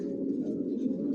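Racing homing pigeons cooing inside a loft, a continuous low, throaty burbling coo at close range with no voices.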